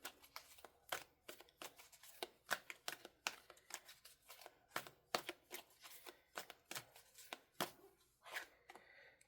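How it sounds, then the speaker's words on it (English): Tarot cards being shuffled, a quick regular series of crisp riffling snaps, close and fairly quiet, with no talk. "Now we're going to pull a few tarot here as well."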